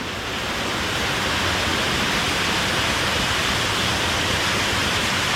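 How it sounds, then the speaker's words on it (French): A canyon waterfall roars as a loud, steady, unbroken rush of water that fills the whole clip without any pause or voices. "La cascade que je viens de descendre."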